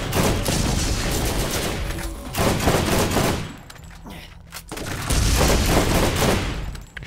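Rapid bursts of automatic gunfire laced with crackling electric damage in the shooter Borderlands, loud sustained volleys with a short lull in the middle before firing resumes.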